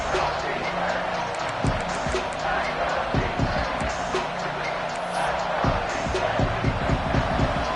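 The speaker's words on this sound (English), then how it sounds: "The crowd really making some noise now" A college football stadium crowd roars near the goal line during a Nebraska game, a broad sustained wall of cheering and noise with scattered thumps, loud and distant-sounding throughout.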